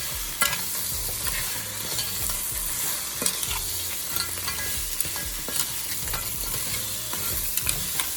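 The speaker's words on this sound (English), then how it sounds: "Mix all of this up" A Caribbean curry crab mixture is stirred in a hot pot, with a continuous close sizzle of frying and repeated scraping strokes of the spoon.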